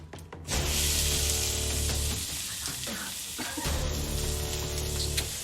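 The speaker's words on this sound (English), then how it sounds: "Still a nice sizzle." Lamb sears in a hot pan, a loud, steady sizzle that fills the space from start to finish, close up with a short dip in the middle.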